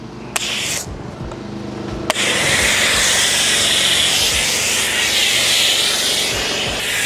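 Foam sprayed over a vehicle during an exterior detailing wash, a steady loud hiss of a foam cannon running almost continuously after a brief start-and-stop burst, with no talk over it.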